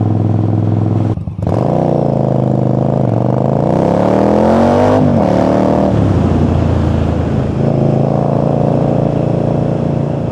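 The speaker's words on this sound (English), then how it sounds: "As I was riding this bike on UK roads before the official European launch" An Indian Scout Bobber motorcycle with Vance & Hines High Output Grenades exhaust ridden on UK roads, its engine loud and close, revving up and down through rising and falling pitches with a brief dip near the start.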